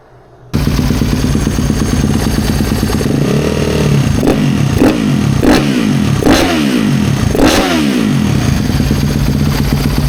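A Yamaha motorcycle engine with its air filter removed idles loud and close, then is blipped through several sharp revs that rise and fall in quick succession, with no talk over it.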